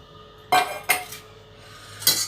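Spoon scraping and clinking against a bowl while a ghee mixture is stirred into flour for sooji halwa; three distinct close clinks, separated by quieter stirring.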